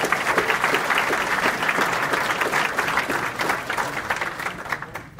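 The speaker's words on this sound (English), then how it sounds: "So give yourselves a round of applause." A seated audience at a Beaver County community forum gives sustained, close, dense applause that stays steady and then thins slightly as it winds down.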